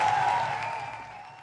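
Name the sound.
audience applauding the minister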